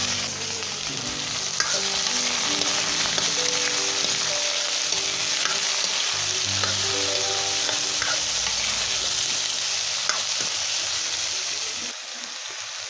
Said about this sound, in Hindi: अब प्याज डाल देंगे, थोड़ा हिलाते हैं। इसके बाद सब्जी को डाल देते हैं।